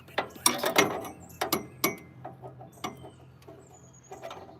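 A wrench tightens a part on the original fuel pump of a 1929 Buick, giving quick ratcheting clicks in short bursts, close by, that fade into fainter scattered clicks.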